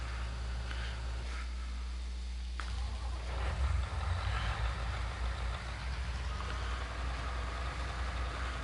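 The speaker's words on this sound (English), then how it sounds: "I'm liking that brand tractor. That's pretty cool. They got a neat engine sound to them." An Ursus tractor engine in a farming video game chugs in a low, steady idle, then revs up with a rougher, louder throb partway through before settling back to a constant drone, with no voices.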